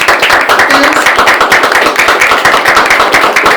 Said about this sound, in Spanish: un aplauso para Héctor y para ustedes.